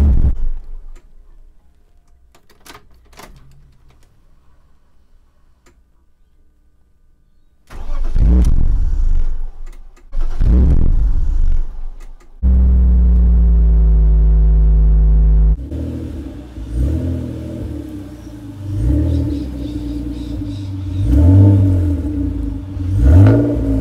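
A BMW E46 323i that sat for months cranks over, catches and starts, then settles into a loud close idle with revs rising and falling; faint ticking is heard before the cranking begins.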